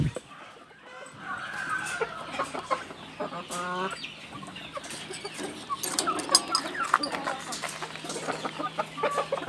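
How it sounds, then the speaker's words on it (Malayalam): Kairali breed chickens on a poultry farm cluck in a steady, overlapping chatter, with a few louder calls rising from the flock over a low, constant background hum. "ഇത് കൈരളി ഇനത്തിൽപ്പെട്ട കോഴികളാണ്."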